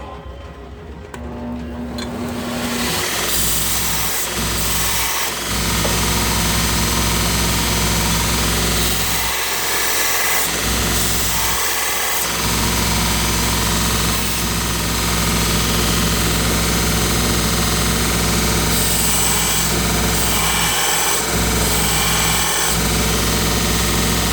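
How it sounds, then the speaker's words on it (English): A power grinder works the tip bevel of a black titanium blade, a loud continuous whine and rumble lasting most of the time, with brief dips where the blade is lifted away; no speech. "So we're going to finish the rest of the tip grind."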